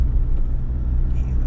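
A Mahindra Scorpio S11 SUV runs with a steady, close, low engine rumble that holds evenly for a brief moment.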